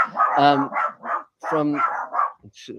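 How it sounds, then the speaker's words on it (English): Dogs bark in several short bursts close by, mixed with a person speaking over them. "sorry about the dogs, guys."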